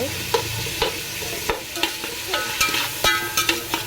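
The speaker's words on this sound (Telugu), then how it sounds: "బాగా ఎర్రగా వేసుకోవాలండి ఆనియన్స్." Onions frying in a pan for chicken biryani, with a steady sizzle broken by sharp, repeated clinks and scrapes of a spoon stirring against the metal, close and fairly loud.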